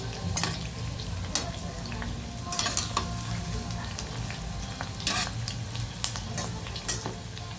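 Onion pakoda bhaji frying in hot oil on a low flame, a dense steady sizzle and bubbling with intermittent scraping and stirring clicks from a utensil, no talking.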